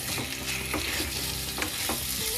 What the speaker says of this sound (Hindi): पनीर को भी अच्छे से हल्के हल्के हाथों से हम मिक्स कर लेंगे